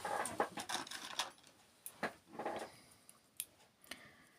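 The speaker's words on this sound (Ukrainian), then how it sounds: "Тупенькі ножиці." Blunt scissors snipping through a wool yarn tassel: a few close, dry crisp cuts and clicks, some clustered and some spaced, fairly quiet against a soft indoor background with no talking.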